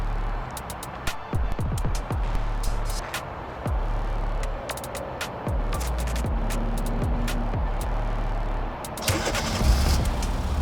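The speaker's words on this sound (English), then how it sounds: "the car is running" Remote start of a 2023-2025 Kia Sportage: a starter crank followed by a steady low engine hum, with a few sharp clicks and knocks over the running engine and no talking.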